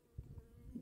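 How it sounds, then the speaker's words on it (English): Bees buzz among garden melon and squash vines, a short, soft, close hum with slight swells, heard alone without talk. "bees are liking all this."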